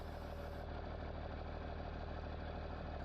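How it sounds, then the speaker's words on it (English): A big 8140 tractor in Farming Simulator 19 running with a heavy load, its engine a steady, low, continuous drone with an even rhythmic pulse, close and unchanging throughout. "Big old brute of a tractor here"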